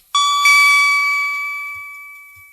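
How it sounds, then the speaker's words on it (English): A read-along storybook page-turn chime rings out as a bright two-note ding-dong, loud and close, then rings on and slowly fades over a couple of seconds with no talk. "Don't forget to turn the page every time you hear the chime."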